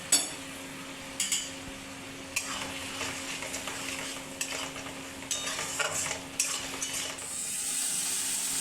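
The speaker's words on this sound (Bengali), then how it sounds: "মশলাটা ভালো করে কষিয়ে নেব।" Spice paste for chickpea chole frying in a pan while being stirred, with soft scraping strokes and occasional utensil clinks over a steady low sizzle, ending in a louder hiss. No one speaks.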